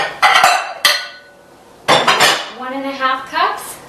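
Ceramic bowl clattering and clinking on a kitchen counter as it is set down and handled, a few sharp knocks followed by a ringing scrape, close and fairly loud with no talking.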